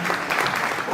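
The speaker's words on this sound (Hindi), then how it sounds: "एक बार जोरदार तालियों के साथ थैंक यू टू ऑल।" Audience clapping at an awards event honoring guests on International Men's Day at Delhi's Constitution Club; a short, steady burst of dense applause at moderate loudness, with a faint voice underneath.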